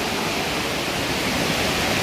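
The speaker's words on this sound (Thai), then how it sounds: "มีลำธารไหลมา" Stream flowing behind a restaurant in a Thai mountain village, a steady, full broadband rush of running water that holds even and close throughout, with no voices over it.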